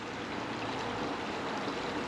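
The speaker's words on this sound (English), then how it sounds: "This is Tom's Creek," Tom's Creek in Cook Forest State Park flows in a steady, soft rush of water, an even, continuous babble without breaks and no voices over it.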